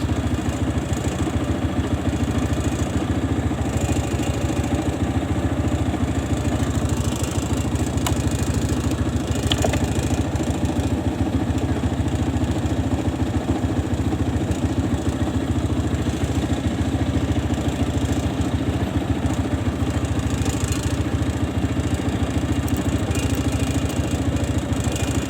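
A Kawasaki ZX motorcycle engine runs steadily at idle, with a continuous, loud mechanical hum and rumble that holds through the whole stretch, with no talk over it.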